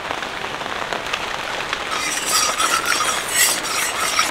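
Heavy rain pours down in a steady, dense hiss that swells slightly louder midway and stays constant throughout, with no voices.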